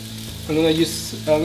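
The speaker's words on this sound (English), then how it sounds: "cook half of the fish first, so I don't overcrowd the pan" Fish fillets dredged in flour frying in a hot pan, a steady close sizzle with a louder burst partway through as pieces go down, over a faint low musical hum.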